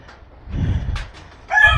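Backyard chickens and broodcock roosters cluck softly, then one rooster breaks into a loud, close crow near the end.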